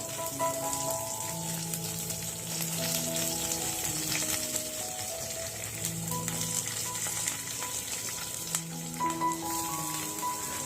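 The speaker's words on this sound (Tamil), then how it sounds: "இதெல்லாம் கொஞ்சம் நேரம் நல்லா எண்ணெயில் பொரியட்டும்." Green chilli and grated ginger frying in hot oil in a pan, a continuous close sizzle with occasional stirring scrapes, no voices.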